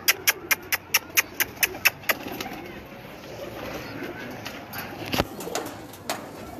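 Pigeons on a rooftop, with a rapid run of sharp repeated clapping bursts like wing flaps at the start, then softer scattered cooing and rustling nearby, one more loud burst later.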